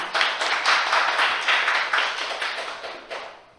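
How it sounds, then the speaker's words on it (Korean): Applause from an audience at a youth festival event for a planning team that just presented, a dense patter of clapping that holds steady for a few seconds and then gradually thins and fades, with no voices over it. "발표해 주신 기획 팀에게 다시 한번 큰 박수 부탁드리고"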